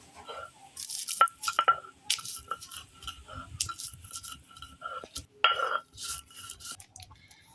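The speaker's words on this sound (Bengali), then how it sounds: "এবার আমি ঝাল কটা গুঁড়ো করে নেব" Dried chilies being ground into powder by hand for a sour-sweet-spicy keora pickle, giving a run of scraping, knocking and crunching strokes that come in uneven bursts, close and fairly loud, with no talk over them.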